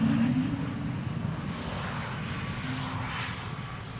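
A LOT Polish Airlines airliner in special livery arrives on the Polderbaan runway, a steady distant engine rumble that fades slightly and carries no talk.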